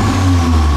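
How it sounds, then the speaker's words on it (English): A car fitted with a Milltek catted non-resonated turbo-back exhaust, valve shut in eco mode, revs briefly with a smooth, muted low engine drone, loud and close. "We'll have it in eco mode, which is valve shut. And I'll get him to give that a rev now in eco mode."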